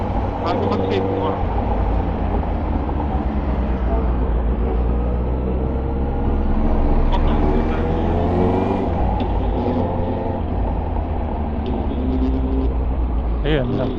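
Road traffic around Tagaytay, heard from a moving motorcycle: a loud, continuous engine and road rumble with swells of passing vehicles and faint voices mixed in.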